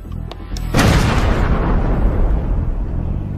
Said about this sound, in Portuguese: Termine o trabalho com um ataque da artilharia